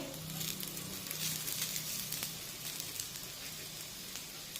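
A rice flour thalipeeth on a hot pan crackles and sizzles as oil is drizzled around it, a fairly quiet, steady frying hiss with small pops throughout, no voices.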